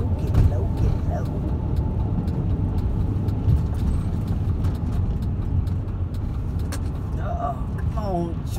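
Road traffic noise from cars and buses, a steady broadband rumble of engines throughout with a passing vehicle's tonal whine near the end, while a voice talks over it.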